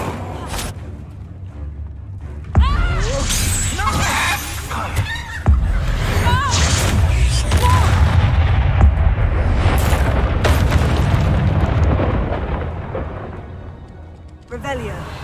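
A fire-spell blast in a wizard video game bursts in with a heavy boom, then a second surge of roaring flame that rumbles on loudly for several seconds under speech before fading out.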